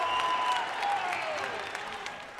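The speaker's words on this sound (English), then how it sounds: "Just listen to this crowd." Crowd in a high school boys' varsity basketball gym cheers and applauds loudly and steadily through a timeout, a dense roar of clapping and shouting with a few whistle-like tones.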